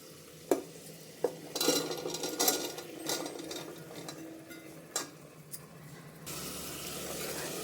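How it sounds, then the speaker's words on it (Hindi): Boiled chickpeas are tipped into a hot pan of fried spices: a few sharp clatters, then a steady sizzling hiss of frying, close by and without talk. "और अब हम उबले हुए इसमें चने डाल देंगे।"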